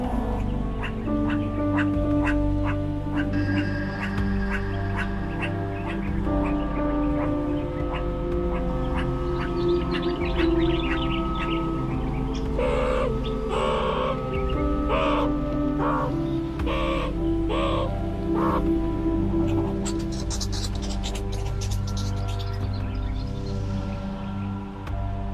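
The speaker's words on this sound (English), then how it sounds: "Once a meerkat sounds the alarm, that particular call frequency instantly engages the zebra herd's self-defense response" Meerkats give repeated harsh, nasal alarm calls in the African savanna near a zebra herd. The barks come in quick bursts, some close and loud, over a steady background for the whole stretch.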